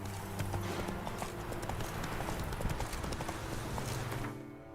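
In The Witcher 3, a horse gallops with fast, rhythmic hoofbeats that continue steadily throughout against a game background, then fade at the end.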